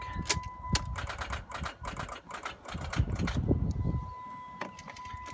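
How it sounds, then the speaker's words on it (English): A car's starter clicks repeatedly without cranking on a weak, discharged battery, producing rapid close mechanical clatter with a faint steady tone behind it and no engine catching. "Right now the vehicle does not crank. You can hear the starter click."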